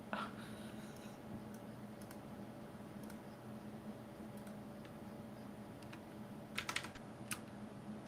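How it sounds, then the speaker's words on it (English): Computer keyboard keys tapped in scattered, faint clicks over a steady low background hum, with a short burst of louder clicks near the end and no talking. "I might have to unplug my keyboard, Tubby."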